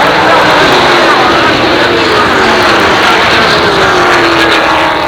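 Late model stock cars race at Jennerstown Speedway in 1988, a loud continuous engine roar with a pitch sweeping past as cars come out of a turn, heavy and close throughout.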